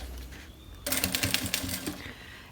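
A sewing machine stitching the edge of a wallet starts abruptly after a short quiet lead-in, giving a close, rapid mechanical clatter of needle strokes for about a second before trailing off.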